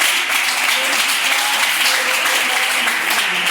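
A church congregation claps together in a steady, dense wash of applause, loud and close, with faint voices underneath throughout.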